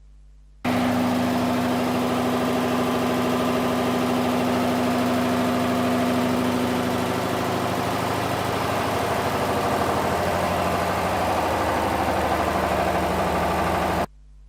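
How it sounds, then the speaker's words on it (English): An internal combustion engine runs under load on a test rig for heat balance testing, a loud steady drone with a constant hum and no voices. "After you have set the load of the engine, allow the engine to run for 1 or 2 minutes"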